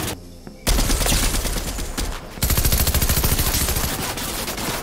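Dense bursts of rapid gunfire in the Fortnite battle royale, loud and close, starting abruptly after a short quiet moment and continuing almost without pause.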